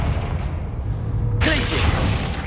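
A Confringo fire spell exploding in Hogwarts Legacy: low game rumble, then one sudden loud burst with a crackling, ringing tail.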